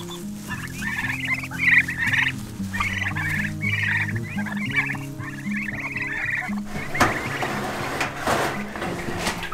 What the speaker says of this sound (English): the boys got the turkeys, everybody's in there now